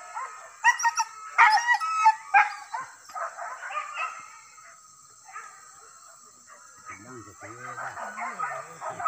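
A dog howls and whimpers with rising, wavering cries, fairly close, at a village hunting event in Talang, Solok; other voices and background noise are mixed in.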